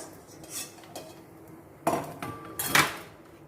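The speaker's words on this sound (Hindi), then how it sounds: "अब हम थोड़ा थोड़ा डाल के सारा गूंद ऐसे ही सेक लेंगे।" Edible gum (gond) roasting in ghee in a pan, heard as soft clinks and scrapes of a metal spoon against the pan with faint sizzling between, close and fairly quiet, no talking.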